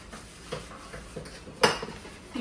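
Dishes and steel vessels are handled while being washed, giving a few scattered clinks and soft knocks at close range. One sharper clatter stands out near the end, and no one speaks.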